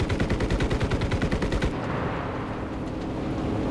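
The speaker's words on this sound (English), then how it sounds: "20mm cannon's doing the job." Rapid 20mm cannon fire from a Spitfire LF Mk IX in the game Enlisted, a fast, evenly spaced burst of loud thuds for about a second and a half, then cut off into a steady engine roar.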